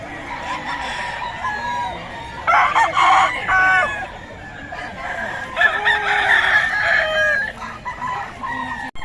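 Several roosters crowing in turn at a chicken sale, including a white rooster, clear and fairly close, with clucking and farmyard noise between the calls.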